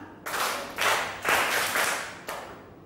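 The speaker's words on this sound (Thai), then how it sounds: "ปรบมือพร้อมกันห้าครั้ง" A group of schoolchildren in a classroom claps together in unison five times, each clap a crisp, evenly spaced burst that stands alone without talk.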